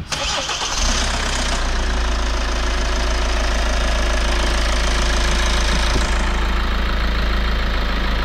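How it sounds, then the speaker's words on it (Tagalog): A Kia Sorento engine starts and settles into a loud, close idle with a persistent metallic knocking tick running underneath, no voices. "yung Kia Sorento natin na may lagatik yung under nitong makina niya"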